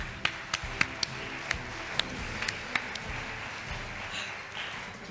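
Scattered applause from a small studio audience, a handful of sharp separate claps spaced irregularly over a low background murmur, fairly faint overall.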